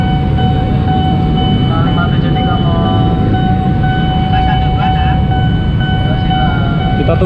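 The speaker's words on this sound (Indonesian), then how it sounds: "Kereta bandaranya." An airport train rumbles past a railway level crossing, a loud, continuous low roar with a steady tonal whine, close by and unbroken throughout, with people talking faintly underneath.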